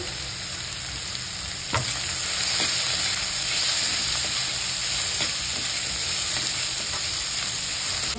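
Onion frying in oil in a pan for a kurdai bhaji, sizzling steadily with a bright hiss, occasional stirring scrapes and clicks punctuating the constant crackle.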